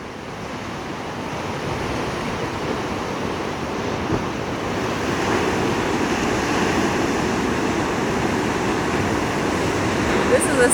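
Ocean surf rolls steadily along the Oregon coast on a sunny morning, with wind buffeting the microphone. The wash of the waves stays broad and continuous, and a voice talks over it.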